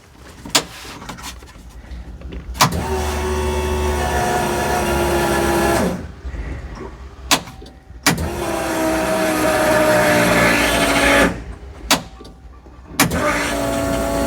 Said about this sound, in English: And you can hear that pump loading up as I'm doing this.